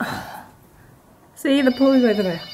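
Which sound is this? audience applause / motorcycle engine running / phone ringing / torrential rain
phone ringing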